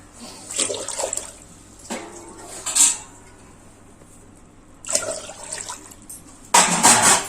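Water poured into a pot for Thai Pongal cooking, heard as several loud splashing, gushing bursts separated by pauses, close by and alone, over a steady low hum.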